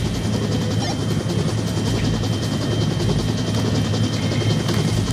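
Helicopter setting down at a landing zone in the VR shooter Onward, a loud, steady rotor drone with a dense, churning low rumble that holds constant throughout.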